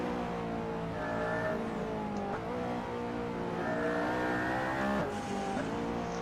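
McLaren P1 supercar driven on Silverstone circuit in the sim game Assetto Corsa, engine droning steadily and loud with rising revs, gear shifts and brief dips, continuous throughout.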